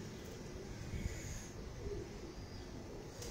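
A Janjala pigeon cooing faintly amid low, rumbling background noise, a soft, brief coo sitting low under a steady murmur.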